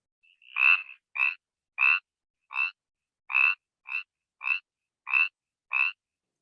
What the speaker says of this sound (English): Here's the sound. Spotted chorus frog. Pseudacris clarkii.